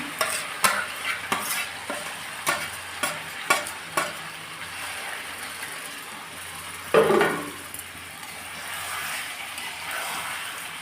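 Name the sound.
marinated chicken being fried and stirred in a pan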